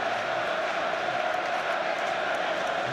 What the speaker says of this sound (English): those vociferous Yorkshire folk in the crowd demand more as well